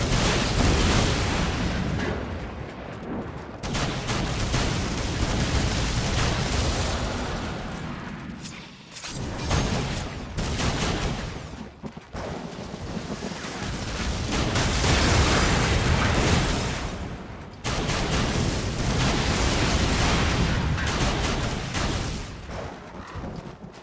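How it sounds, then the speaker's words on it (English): Loud, near-continuous gunfire and explosions from Darksiders 2, dense booming bursts that fill the soundscape and break off in brief gaps before resuming. "Can't give me a gun that destroys basically everything and then not expect me to shoot literally everything."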